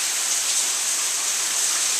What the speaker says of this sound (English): It's still windy, still rainy, but not nearly as much.